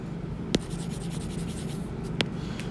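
Eraser scrubbing across a writing board, a continuous close rubbing scratch with two sharp taps, no speech.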